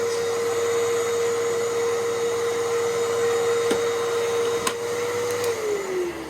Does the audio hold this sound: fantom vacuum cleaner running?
yes